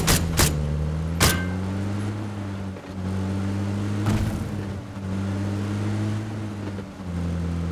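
A car engine in the video game PUBG drones steadily at a low pitch, rising and falling slightly as the vehicle drives, with a few sharp clicks near the start.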